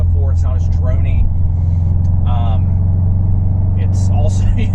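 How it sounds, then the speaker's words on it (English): A Subaru STI's Cobb exhaust drones steadily at a low, even pitch during an acceleration pull while someone talks over it, the engine note holding constant throughout. "Personally, I think the exhaust sounds good. It's kind of quiet compared to what I had before."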